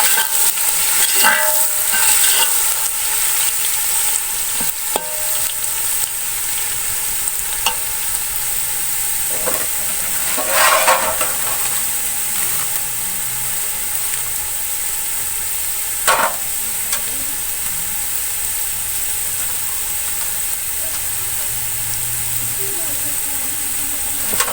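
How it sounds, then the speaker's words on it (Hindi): Garlic frying in a pan with onions already browned, a steady sizzle and hiss with occasional stirring scrapes, fairly close and continuous. "अब लहसुन को थोड़ी देर भून लेंगे"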